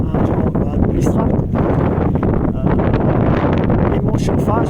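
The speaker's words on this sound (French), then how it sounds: "il y a un de ces vents, un vent glacial, un vent administrable" Strong, icy wind blasting across the microphone in loud, continuous buffeting gusts that rumble and roar, with a voice speaking faintly beneath the noise.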